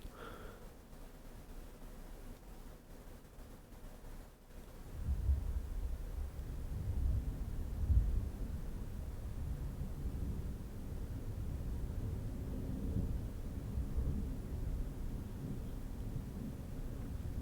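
Rolling thunder from a lightning storm in the Silent Hill 4 video game, a long low rumble that swells after a few seconds and lingers steadily with loud, sustained weight.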